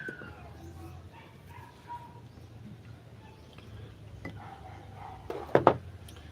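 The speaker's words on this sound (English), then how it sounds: "He's not a bad dog." A dog that looks like a dingo with a Labrador's head gives faint whimpers and yips, then two or three sharp, loud barks near the end.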